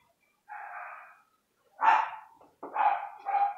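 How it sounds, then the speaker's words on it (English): A small puppy barks indoors, giving four short yappy barks in two pairs with brief gaps between, close and fairly loud, with no talk over them. "That's my little puppy, Reese."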